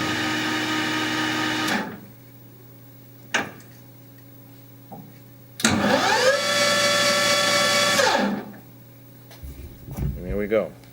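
A lathe spindle set to 1700 RPM spins up with a loud, steady, high-pitched motor whine. It runs twice in short bursts, with quiet gaps, small clicks and a brief voice near the end.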